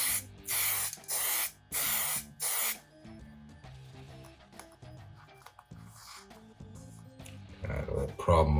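Black spray paint goes onto a guitar neck in light coats: five short, sharp hissing bursts close together, followed by quieter handling and shuffling noises.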